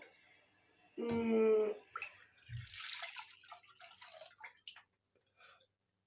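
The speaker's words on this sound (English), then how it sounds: "After we have the bowl, we pour into it half liter of milk" Half a liter of milk is poured into a bowl: a brief ringing clink, then several seconds of soft, faint splashing and trickling that tapers into quiet drips.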